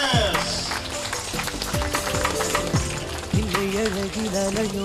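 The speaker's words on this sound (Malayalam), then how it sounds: "കാഞ്ഞങ്ങാടിന്റെ ഒരു മികച്ച കൈയടി കൊടുക്കൂ പ്ലീസ്." Audience applause at a Sulthan Gold Taaraka kids section inauguration in Kanhangad, a steady wash of crowd clapping blended under loud music with a sliding melodic line.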